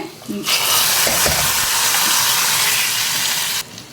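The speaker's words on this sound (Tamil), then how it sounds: "கடுகு நல்லா பொரிஞ்சதும் கொஞ்சமாக பூண்டு பூண்டு நசுக்கி வச்சுருக்கிறேன் அதை போட்டுக்கிறேன்" Crushed garlic hits hot oil with popped mustard seeds, bursting into a loud, close hiss that holds steady for about three seconds, then cuts off.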